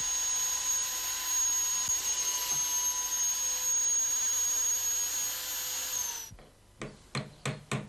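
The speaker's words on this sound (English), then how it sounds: "Screw holes are next bored and countersunk in the left-hand piece." A power drill bores and countersinks screw holes in a wooden piece for a routing jig, a steady high whine running about six seconds before winding down, followed by several short drilling bursts.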